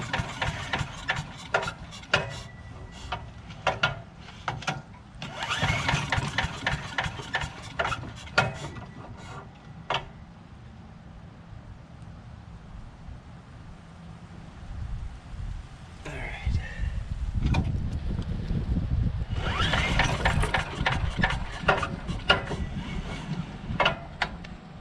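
A wood chipper shredder with a two-stroke engine that has sat unused is pull-started repeatedly, short bursts of rope yanks and sputtering cranking between quieter pauses, with someone talking at times.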